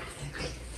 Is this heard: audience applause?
no